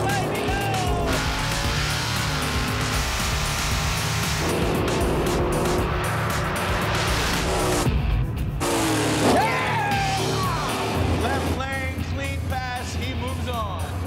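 Drag race cars roaring down the strip at Bristol Dragway during the All Out 16 event, loud engine noise with brief tire squeal, while voices talk over the racket.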